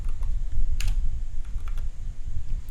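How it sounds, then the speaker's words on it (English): Steady typing on a computer keyboard while entering a basic formula in Google Sheets, a quick run of close, crisp key taps with a few sharper clicks standing out. "I would just click the plus icon on my keyboard"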